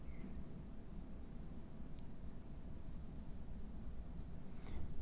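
Pen or marker strokes scratch softly as a definition is written out during a statistics lesson on R-squared, a quiet, steady scribbling with small taps and no voice.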